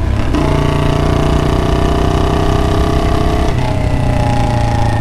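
A Royal Enfield Bullet motorcycle engine is held at full throttle for a launch-control start with the clutch held in, giving a loud, steady, buzzing drone with a strong low thump that dips slightly in pitch near the end.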